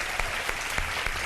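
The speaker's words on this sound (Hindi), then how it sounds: "तालियां बजा देंगे भरपूर।" Studio audience claps loudly and steadily on a televised iftar show, with a few sharper bursts standing out from the continuous applause.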